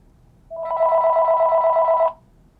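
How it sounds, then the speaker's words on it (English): A Panasonic Link2Cell DECT 6.0 cordless phone gives a single electronic ring lasting about a second and a half, close and clear over quiet room background. "So one ring passed, and after that it says blocked."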